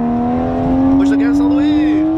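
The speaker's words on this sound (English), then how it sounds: "Both hands on the wheel and push the gas. Push the gas all the way." A stage-tuned BMW F32 435i with the N55 turbocharged inline-six pulls hard at full throttle, its engine note loud and steadily rising in pitch from inside the cabin while people talk over it.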